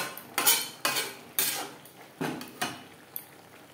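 A utensil scrapes and knocks against a pan as lau shak (bottle gourd greens) is stirred together with fried lentil fritters, giving about half a dozen distinct clattering strokes at a fairly even pace.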